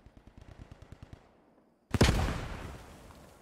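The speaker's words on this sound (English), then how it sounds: "here comes a grenade" A grenade bursts in a multiplayer war video game: after a stretch of faint, rapid gunfire, a sudden loud, close blast erupts and rolls into a long, decaying rumble.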